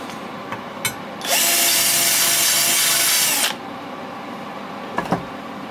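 A TIG welding arc on a first attempt hisses in one steady, loud burst lasting about two seconds, set between a few quiet knocks and clicks.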